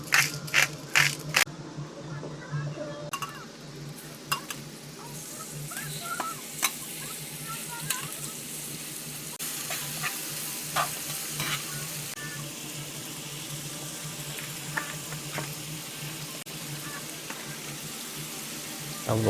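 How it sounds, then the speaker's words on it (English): Seasoned shrimp with garlic powder, salt and pepper cooking in a pan in a van kitchen, a soft ongoing sizzle with scattered scraping and clicking stirs, faint and fairly distant, and a few brief clatters near the start. "And lastly, we're gonna cook the shrimp."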